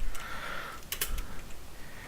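A short burst of computer keyboard typing while entering a VirtualBox command, a few soft, close key clicks with one brief louder cluster, quiet and without talking.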